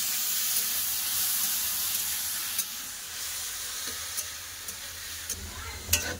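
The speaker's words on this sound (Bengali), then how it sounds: "আলু একটু ভালো করে ভেজে নেবো, তারপরে দেবো শাক।" Potatoes fry in a pan with a loud, continuous sizzle, and several sharp clinks of a utensil stirring against the metal stand out from the hiss.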